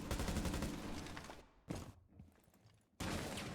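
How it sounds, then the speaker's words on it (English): Gunfire in a competitive Rainbow Six Siege match, heard as rapid bursts of automatic shots, then a pause, a short burst, a quieter gap and another loud volley. "they definitely heard the gunfire down here"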